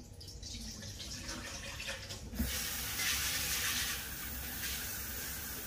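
Tap water runs steadily into a cooking pot being filled for boiling mung beans in a home kitchen, a close, constant rushing splash that grows fuller partway through.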